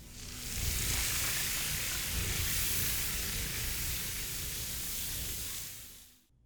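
Meat sizzles while cooking in the Dragon's Dogma 2 video game, a steady loud hissing fry that holds for several seconds before cutting off abruptly, with no talk.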